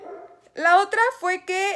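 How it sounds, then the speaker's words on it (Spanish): A dog barks in a home, several sharp close barks in quick succession overlapping a person speaking. "Disculpen los ladridos de mi perro."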